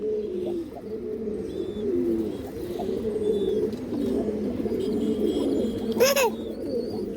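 A male brown-necked pigeon coos in low, repeated rolling phrases close by, with faint chirps from other birds and a brief sharper call near the end.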